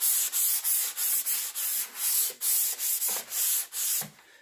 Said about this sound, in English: give it a light sanding with my Dixie Belle sanding sponge